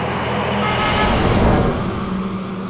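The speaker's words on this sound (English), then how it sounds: "Oh, there's the engine." A wildfire engine rumbles past close by on a road during fieldwork on a burn plot, a loud, broad engine roar that swells and then eases slightly over a few seconds.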